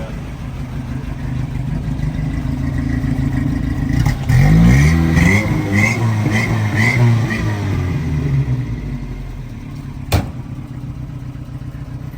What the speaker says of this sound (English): Here, I'll give it a little rev.